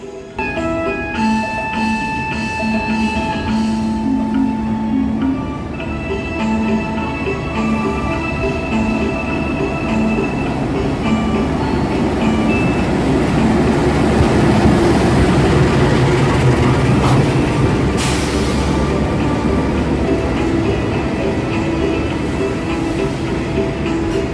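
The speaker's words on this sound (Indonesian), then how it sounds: "Ada kereta api Tawang Jaya Premium tujuan Semarang dan segera masuk di jalur 2" The Tawang Jaya Premium passenger train pulling into Cirebon station on track 2, with a loud, steady rumble of the diesel engine and wheels, tonal hums and a rising clatter of carriages passing close by for a long stretch.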